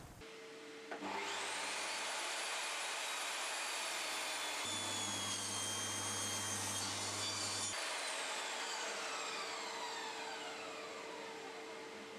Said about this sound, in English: get some strips cut on the table saw